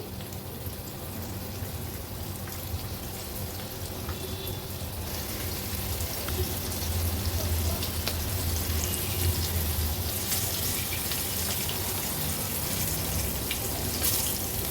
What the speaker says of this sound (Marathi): आता एक एक करून ह्या लेपांचे तुकडे आपण तेलावर सोडूया।